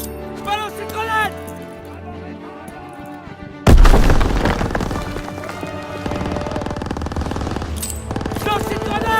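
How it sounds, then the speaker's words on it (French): Grenade explosion amid gunfire in a World War II battle, a sudden loud boom followed by dense crackling rifle and machine-gun fire, with shouting voices throughout. "Je balance une grenade!"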